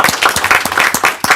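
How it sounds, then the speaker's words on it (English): Applause at a public board meeting of the Pennsylvania gaming control board, a short burst of many hands clapping steadily in a room, loud and close, with no talking over it. "So we'll give them a hand of applause."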